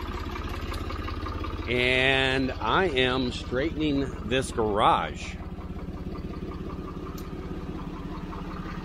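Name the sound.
old Ford industrial tractor engine running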